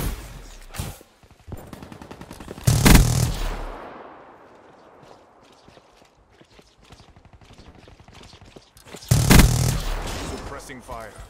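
Black Ops 3 gunfire in bursts, loud rapid automatic fire with heavy booming shots around the start and again near the end, over continuous game noise and voice callouts.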